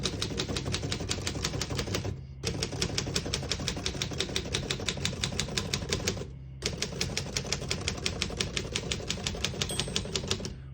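Rapid typing on a 1933 Underwood Universal four-bank portable typewriter, crisp metallic key strikes in a fast steady rhythm, close and alone, broken by two brief pauses.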